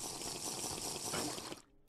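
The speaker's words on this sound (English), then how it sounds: "probably should take my water breathing potion" Gulping, liquid-filled drinking of a water breathing potion in Minecraft during an ocean temple raid, a steady close sound that stops abruptly near the end, with no talk.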